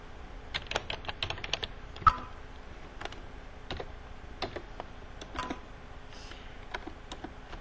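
Bursts of quick, close keystrokes on a computer keyboard while an invoice is entered, clustered clicks separated by short pauses over a quiet room hum, with no voices.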